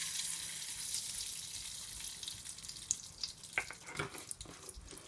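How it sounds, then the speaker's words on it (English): Palm oil is poured into a hot pot, giving a soft, steady trickling hiss that turns into brief crackling sizzles toward the end, heard close up with no talking. "So now I'm going to add my palm oil."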